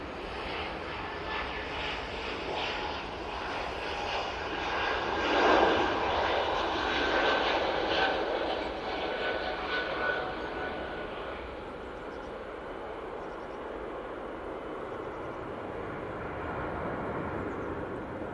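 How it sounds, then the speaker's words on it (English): Air France Airbus A320 jet at Manchester Airport, a broad roaring engine wash that swells to a peak then slowly fades and lingers as a distant rumble, heard from outdoors at a distance. "Air France A320 now, and they're all going off to Paris Charles de Gaulle Airport"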